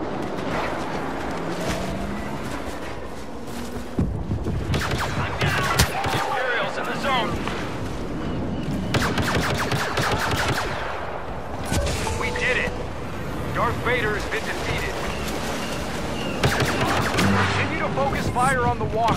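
Sci-fi blaster fire on an AT-AT walker in a Star Wars battle game: repeated bursts of shots and explosions over a rumbling battlefield din, with voices talking throughout.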